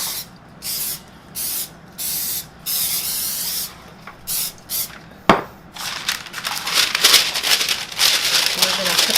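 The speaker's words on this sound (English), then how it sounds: "I'm going to spray the sheet pan." Cooking spray hits a sheet pan in a series of short, close bursts, then a longer, continuous hiss of spraying near the end.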